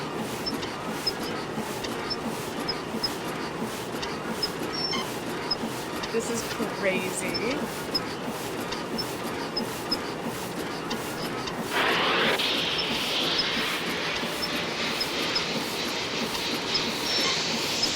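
A moving train in the Nancy Drew: Last Train to Blue Moon Canyon video game gives off a steady rumble with a rhythmic, high-pitched squeak, and the squealing gets louder partway through as a person speaks over it.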